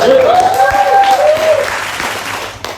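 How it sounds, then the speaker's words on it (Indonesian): Applause from a student association gathering, with a voice speaking or calling out over the clapping. The clapping is loudest at the start and fades gradually over about three seconds. "Tepuk tangan untuk Cika."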